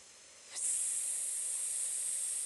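During a squat breathing exercise, a forceful exhale bursts in after a brief quiet and continues as a loud, steady, close breathy hiss.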